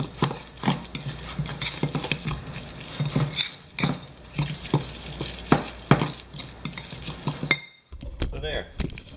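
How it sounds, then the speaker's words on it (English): A utensil stirs canned whitefish and mayo in a bowl, scraping and clinking in repeated close strokes, with a voice talking over parts of it before a short pause. "So just squirt in some mayo. And you just mix it all up."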